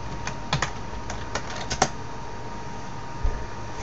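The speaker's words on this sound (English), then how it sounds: "Best thing to do is type the word stop." Someone types the word stop on a computer keyboard, a short run of crisp, close key clicks followed by a firmer final keystroke, then a quiet hum.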